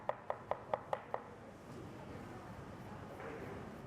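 A knife slices garlic thinly on a board for a sea bass and soba noodle salad, about six quick, crisp cuts in a steady rhythm, close and clear, followed by quiet kitchen room tone.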